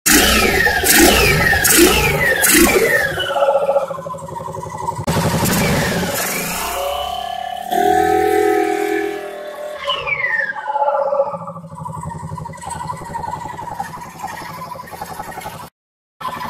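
A Honda XL motorcycle engine revs repeatedly during carburetor synchronization, several sharp throttle blips rising and falling up close, then a sustained higher rev and a settling idle that cuts off abruptly near the end.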